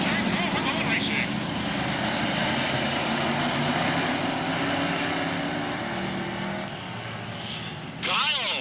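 Race cars at Glade Speedway, a continuous loud roar of engines circling the track with passing swells, and an announcer talking over the noise.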